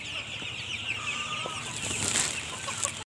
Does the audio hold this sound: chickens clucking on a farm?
yes